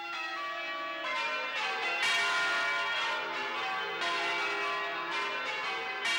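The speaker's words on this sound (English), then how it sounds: "it's all down to the ancient art of bell ringing" Church bells peal from St. Mary's Cathedral in Limerick, a dense, continuous ring of overlapping bell strikes with fresh clangs every second or so, loud and steady with no voices.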